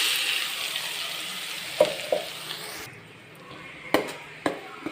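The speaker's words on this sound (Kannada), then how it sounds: "ಮಸಾಲ ಮಾಡಿಕೊಂಡಿರುವಂತಹ ಮಸಾಲೆಯನ್ನು ಇದರಲ್ಲಿ ಸೇರಿಸ್ಕೊಳ್ಳೋಣ." Ground masala frying in a pan, a bright sizzling hiss that fades midway, broken by several sharp clacks of a spoon stirring against the pan, close up, with no talk.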